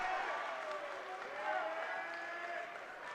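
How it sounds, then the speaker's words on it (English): A raucous home crowd at a CUNY women's community college basketball championship game cheers and claps, a sustained roar of voices with squeaky shoe sounds and announcer speech layered over it. "The BMCC home crowd, guys, is raucous, man."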